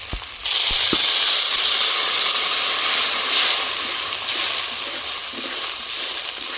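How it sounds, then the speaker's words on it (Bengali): Water splashes into a hot pan of frying rohu fish curry, giving a loud, steady hiss and crackle that starts abruptly and stays close and dense throughout, with no talking. "একটু জল দেবো"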